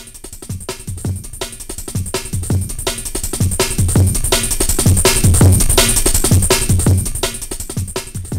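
A drum-and-bass beat runs through the Heat wave shaper distortion in Bitwig 5.1. It plays as a loud, gritty, saturated loop with punchy low kicks and bright hissing highs, and it swells slightly over several bars. No voice is heard.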